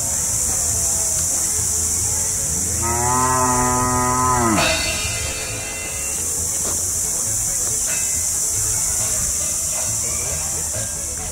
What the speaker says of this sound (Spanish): Acá tenemos un toro.